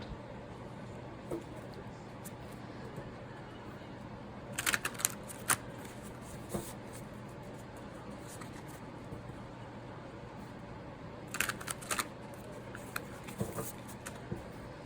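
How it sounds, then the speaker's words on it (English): Tarot cards being shuffled on a cloth-covered table, two quick bursts of riffling and flicking a few seconds apart, close and fairly quiet over a low steady room hum. "Wow, that was a shitty shuffle."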